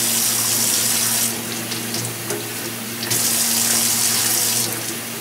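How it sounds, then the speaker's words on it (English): Water runs steadily from a tap while soap is rinsed out of wet felt, a loud, close, continuous splashing stream that dips slightly in the middle as the felt is moved under it. "Plus you gotta rinse the soap out."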